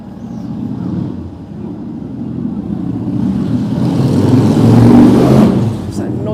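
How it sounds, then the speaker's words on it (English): A noisy motorcycle passes on a busy city street, its engine growling louder as it approaches and swells near the end amid general street background. "There's a noisy motorcycle."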